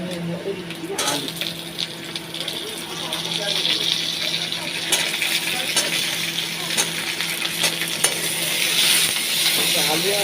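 Potatoes and taro go into a pan of browned onions, bringing a steady sizzle and frying hiss with clinks of a spoon, while a person talks over the cooking.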